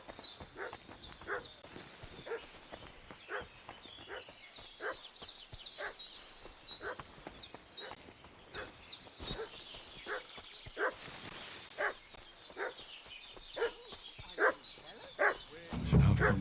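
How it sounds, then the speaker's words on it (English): A village dog in Kingdom Come: Deliverance II barks repeatedly and excitedly, a steady run of sharp yips and barks at moderate distance over ambient game sound, with no talk. "What's that dog making such a fuss about?"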